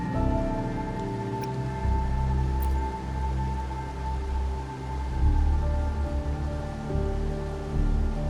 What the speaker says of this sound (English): when it rains like this, we hide